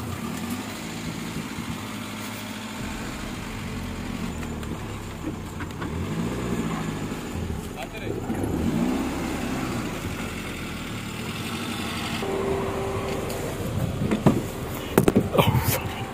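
A car engine runs and drives near Thaali Dam in Bihar, a low continuous rumble that rises and falls with the drive over about sixteen seconds, with occasional knocks and rattles near the end and no talk.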